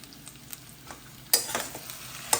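A spoon stirs a mashed potato filling with salt and coriander for aloo paratha in a pan, making soft scraping and light sizzle, then louder clattering strokes and a sharp scrape at the end, close by with no speech.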